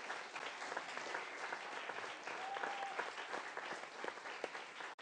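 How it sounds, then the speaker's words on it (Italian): Studio audience at an Italian television talk show in a piazza setting claps steadily throughout, a dense continuous applause with no break. "Magari se volete mi potete fare un applauso così vi scaldate un attimo"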